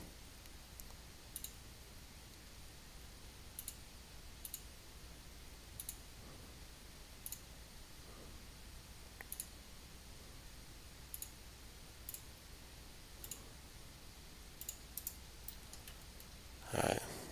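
Mouse clicks from 3ds Max 2010 car modeling with the cut tool, sharp isolated taps spaced irregularly every second or so over a quiet room hum, with a louder cluster of clicks at the very end.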